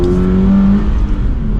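A 2022+ Toyota GR86 fitted with an MST cold air intake revs loudly and steadily close by, the engine drone holding through the whole short burst with no talking.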